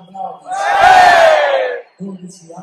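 A stadium crowd of over 18,000 at a Juventus versus Atalanta match roars loudly for nearly two seconds as the teams walk onto the pitch, then drops off and gives way to nearby voices talking.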